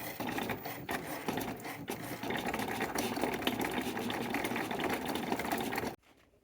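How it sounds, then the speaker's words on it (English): An electronic cutting machine cuts out images for custom guinea pig igloos, a steady mechanical whir with a soft motorized buzz. It runs continuously and fairly loud for about six seconds, then stops abruptly. "this whole machine will cut the images out for you"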